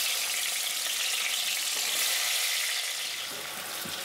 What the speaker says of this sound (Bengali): এবার নুন হলুদ মাখানো এই চাল কুমড়োগুলো আমি একটু লাল করে ভেজে নেব